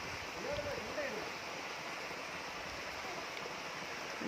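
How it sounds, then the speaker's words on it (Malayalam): Water flows steadily out of a rock crevice near a secret pool at Hatta, a constant close rushing wash with faint voices briefly over it. "ഈ പാറയിടുക്കിൽ നിന്നാണ് വെള്ളം വരുന്നത്."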